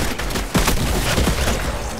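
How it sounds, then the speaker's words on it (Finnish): Gunfire in a video game, a dense continuous burst of loud overlapping shots and booms filling the whole moment, with no voices over it. "No niin, nyt sun täytyy ampua ne."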